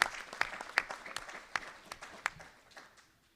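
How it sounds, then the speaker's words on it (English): Audience at a memorial celebration for Bhakti Tirtha Swami applauding Princetonians, sparse distinct claps standing out over a softer patter that fades away near the end. "let's give a big round of applause to our very own Princetonians"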